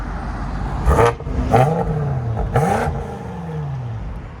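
A 900 hp BMW X6 M Competition with downpipes and Vibrant resonators, exhaust valves closed, revs loudly close by in three rising blips, with its engine note sweeping up and falling back between them.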